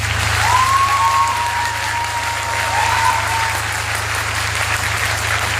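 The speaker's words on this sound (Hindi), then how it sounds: "अपने आप ही लोगों ने ताली बजाया" An audience claps together, a dense sustained patter of many hands filling the room at an even level, with a faint tonal whistle sounding briefly over it.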